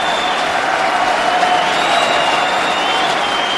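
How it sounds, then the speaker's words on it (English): A large crowd at a professional table tennis match, the 2017 World Tour Grand Finals, roars and applauds in a loud, sustained wash of cheering with whistles rising above it. "Man, the crowd is going crazy."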